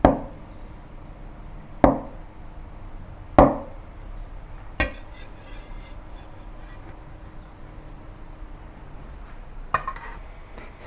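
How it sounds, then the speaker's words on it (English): Knife cutting a block of moderately firm tofu into one-inch cubes, five sharp, separate strikes against a cutting board spaced a second or more apart, close and crisp over a quiet room. "Cut the tofu into cubes about 1 inch."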